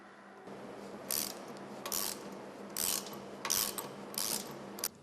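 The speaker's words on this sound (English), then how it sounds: "Loosen the 3 hex bolts and fasteners." Hex bolts being loosened on the discharge valve of a nitrogen generator, giving about five short bursts of ratcheting, scraping metal clicks at an irregular rhythm over a low steady hum, close by and moderately loud.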